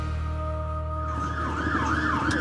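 A wailing ambulance siren sweeps up and down in a continuous loud cycle over steady background engine hum, with no voices.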